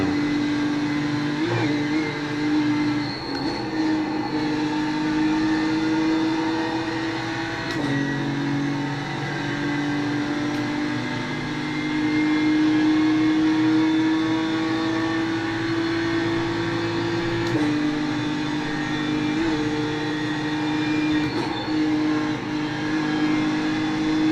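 BMW M4 GT3 race car engine in the iRacing sim on the Nordschleife, a steady sustained drone with slight pitch shifts and brief dips at gear changes, loud and continuous throughout.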